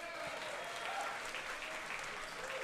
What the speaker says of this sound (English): We also want to give a round of applause to our LTW director, Robert Sanders,